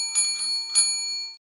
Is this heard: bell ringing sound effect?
yes